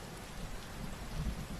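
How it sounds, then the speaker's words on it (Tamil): Rain pours steadily in a scene from the film Tumbbad, a soft, dense hiss with low rumbling underneath, heard faintly and without voices. "மழை பெஞ்சிக்கிட்டே இருந்தா எவ்வளோ எரிச்சலாக இருக்கும்."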